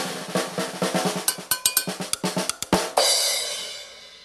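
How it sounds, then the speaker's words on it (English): Snare drum played in quick crisp strokes and short rolls, bright and close, ending in a sustained rattling wash, heard alone without talk. "This is the snare drum. It's a member of the percussion family."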